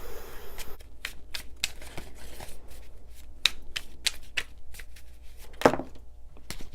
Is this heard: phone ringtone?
no